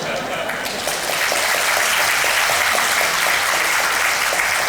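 An audience applauding at a public meeting in Daegu, a broad, continuous clatter of many hands that swells after a quieter opening and holds steady, with a voice partly underneath.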